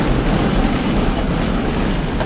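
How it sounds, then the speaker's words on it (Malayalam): A second-class passenger train runs through Sri Lankan hills with a loud, continuous rumble heard from on board, steady throughout with no talk. "ട്രെയിൻ പോകുന്നുണ്ടോ?"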